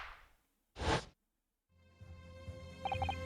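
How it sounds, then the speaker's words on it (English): A single sharp, loud firework bang resembling a gunshot in the video game The Great Ace Attorney Chronicles, following a fading tail of an earlier sound and a short silence, then giving way to game music. "The really special that you sell for 600 pennies sounds like this."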